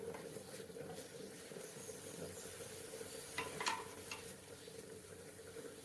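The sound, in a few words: chicken frying in oil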